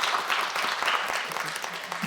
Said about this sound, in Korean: 먼저 박수 보내주시죠.